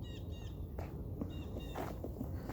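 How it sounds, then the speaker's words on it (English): Birds sing outdoors in a cold garden, with short repeated chirps and whistled calls coming moderately near over a steady low background hum, no talking. "Let's listen to the birds for a bit"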